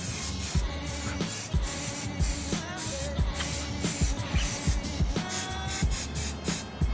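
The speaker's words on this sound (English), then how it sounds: "we're gonna shake it up a little bit, and then we're gonna just spray it all" An aerosol can of trim dressing, shaken and sprayed while cleaning an engine bay, hisses in repeated short bursts, close by, with faint rattling and handling sounds between sprays.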